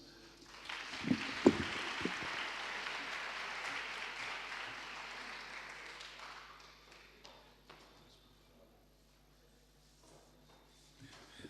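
Audience applause at a campus health and wellness event on anti-substance abuse, a dense patter of clapping for several seconds that thins out and fades to near silence by the end.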